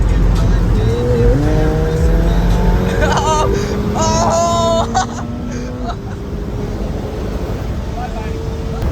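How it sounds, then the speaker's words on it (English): A McLaren 720S Spider sports car drives with a steady engine drone and rising tonal engine notes, loud and close, with people talking over it throughout. "we are now getting back into the McLaren, going for our final ride in it"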